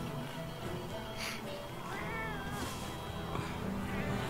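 Kitten meowing in Monster Hunter: World, a few faint, wavering mews over dense game ambience and background noise.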